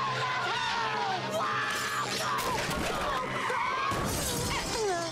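Shattering crash effect from a SpongeBob cartoon, a bright cluster of breaking-glass smashes amid yelling and cartoon voices, loud and busy throughout.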